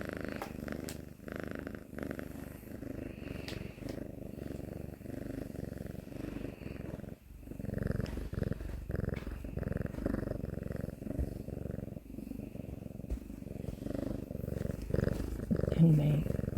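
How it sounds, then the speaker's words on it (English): A domestic kitten purrs steadily and close by, a low continuous rumble that runs throughout with slight swells in loudness, with faint background sounds around it. "That's Panda purring next to me"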